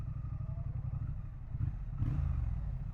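A 2025 Triumph Speed Twin 1200RS motorcycle is ridden, its low engine rumble and wind noise steady and muffled, rising slightly partway through.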